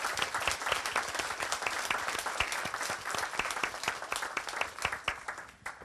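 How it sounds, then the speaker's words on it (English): Steady applause fills a college honors convocation hall as the audience claps for presenters and honorees, a dense, continuous crowd of hands with crisp individual claps, fading slightly at the close. "I'd like for us to give a big round of applause to all the presenters and to all the honorees today."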